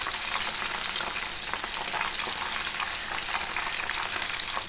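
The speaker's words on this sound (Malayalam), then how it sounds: "ഇനി നന്നായിട്ട് ഫ്രൈ ആകട്ടെ." KFC-style chicken pieces deep frying in hot oil over a high flame give a steady, loud, close sizzle with crackling bursts, continuous throughout and with no voices.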